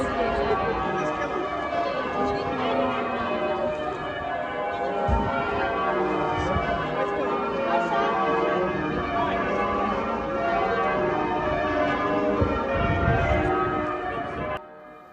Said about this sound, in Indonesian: Gerejanya bunyi guys.